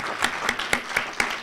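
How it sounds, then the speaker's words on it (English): Brief clapping for a speaker at a Black Heritage Month program: five or six distinct, evenly spaced claps in a steady rhythm, moderately loud and close. "let's give her another round of applause"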